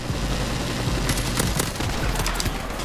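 A silenced AK47 in Modern Warfare Remastered fires rapid muffled automatic bursts, a steady dense rattle of suppressed shots close up, with no talking.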